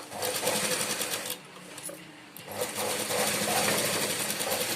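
A sewing machine stitches blouse lining in steady, rapid bursts, running continuously with a short slower stretch in the middle, close and fairly quiet.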